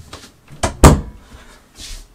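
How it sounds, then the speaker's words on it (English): A room door swings and shuts with a soft knock and a firmer thud, followed by faint rustling, close and alone without speech. "Shut my door because I don't like it open."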